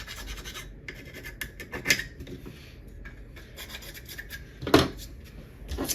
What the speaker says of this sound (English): I can use a file to screw them off.